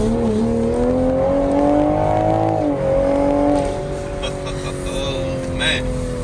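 A 2023 Toyota Supra 3.0 pulls hard from a green light, its engine note climbing and briefly dropping as it shifts, then climbing again, loud and close inside the car.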